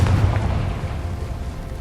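A Confringo blasting spell bursting in Hogwarts Legacy, a single deep booming explosion that hits at once and rolls off into a rumbling decay over under two seconds, no voices.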